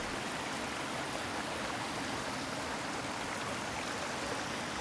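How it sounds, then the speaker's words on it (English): A steady, dense roar of falling water, constant and powerful with no pauses, like standing near a large waterfall. "The tremendous sound of the water"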